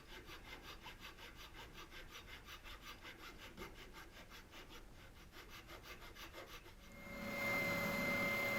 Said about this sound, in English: Here's me doing the cutting the fret slots. Again, it's a flamed maple fretboard that I'm putting on.